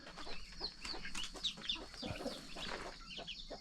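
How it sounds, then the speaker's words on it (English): Ducklings on a farm giving quick, faint, high peeping calls in a scattered, irregular series, heard in quiet surroundings with soft background rustling. "There's the ducklings."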